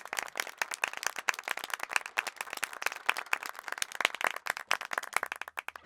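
A cartoon audience breaks into applause after a call to welcome a young volunteer, with dense, steady clapping throughout that stays loud and lively from start to finish.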